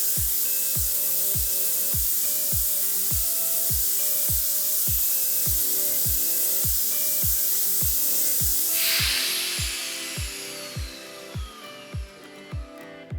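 A B&G Flex-a-Lite 2600 fogger runs a triple rinse, giving a steady broadband spray hiss over a regular thumping pulse. Partway through, the hiss flares up and then eases while the rhythmic beats continue.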